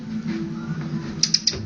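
A frightened bird gives three quick, sharp high chirps in close succession near the end, over a low background hum and faint mechanical creaks.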